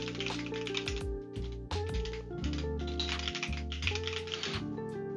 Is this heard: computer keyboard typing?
yes